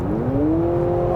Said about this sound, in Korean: 지금 스포츠 모드로 바꾸니까 사운드가 옹 이런 소리가 나잖아요.